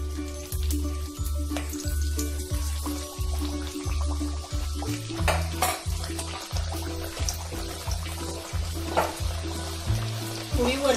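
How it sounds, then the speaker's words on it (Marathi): Fenugreek puris frying one by one in hot oil over medium heat, a steady loud sizzle with bubbling bursts over a rhythmic low kitchen thump, with no talking. "आपण आता पुरी एक एक करून तळून घेऊया।"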